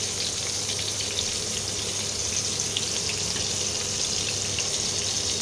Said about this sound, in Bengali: এবারে তেলটা গরম হয়ে এসছে, এবারে একটা একটা করে বেগুন আমি বসিয়ে দিচ্ছি